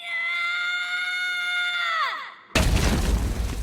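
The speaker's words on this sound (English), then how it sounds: "That girl put her all into pushing this rock as it booms right onto Boro, probably sent him straight down to Jiraiya," A sustained, strained shout slides downward in pitch and fades, then a loud cartoonish boulder crash from the anime Boruto, a rock pushed off a cliff, bursts in suddenly and rumbles heavily until the end.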